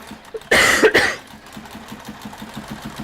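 A single harsh cough bursts out near the mic, followed by a low mechanical hum that keeps running in the background.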